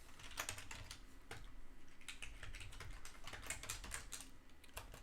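Rapid clicking on a computer keyboard, fast irregular key taps running continuously at close range and fairly quiet, with no voices.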